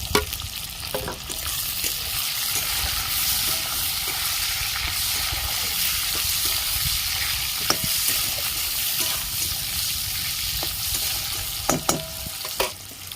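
Chopped tomatoes and green chillies fry in a pan for a small-potato dum curry, a constant close hissing sizzle with occasional clinks and scrapes of stirring, especially near the end.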